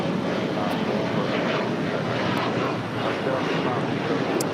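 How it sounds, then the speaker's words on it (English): A KLM Boeing 787-10 Dreamliner arriving at LAX from Amsterdam, a broad, steady jet roar that stays loud throughout and carries some wind noise. "Coming in from Amsterdam on this 787-10 Dreamliner."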